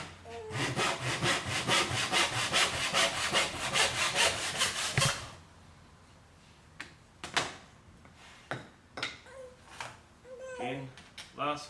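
Hand saw cutting through timber in about a dozen quick, rhythmic rasping strokes, loud and close, followed by scattered knocks and handling sounds, with a dog whimpering and a voice in the background.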